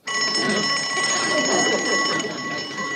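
An old-fashioned telephone bell on a rural party line rings in one long continuous metallic trill, loud and close, with faint background sound beneath.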